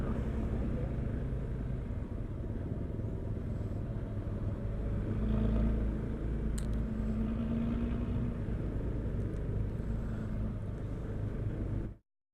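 Stop-and-go traffic on a road to Carita beach in Banten: a continuous, close engine rumble and road drone with steady vehicle noise throughout, ending abruptly.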